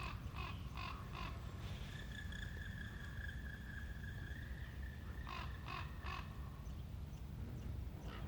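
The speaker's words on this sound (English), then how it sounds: "hearing the cronk of a raven is just beautiful" Ravens call in a quiet burned forest near Jasper, Alberta, giving a few hoarse croaking bursts and a drawn-out tonal call, moderately distant over constant wind or rushing background noise.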